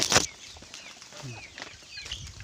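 Black Australorp hens at feeding time give a sharp burst of wing flapping, then soft, scattered clucks and murmurs close by.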